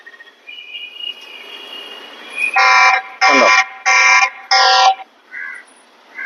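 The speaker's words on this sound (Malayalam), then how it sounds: "ഇതുപോലെ അലാറം അടിച്ചുകൊണ്ടിരിക്കും" An alarm from a TP-Link VIGI C340 CCTV camera sounds in four loud, evenly spaced electronic blasts, preceded by quieter tones and followed by a brief softer beep, with a short spoken word nearby.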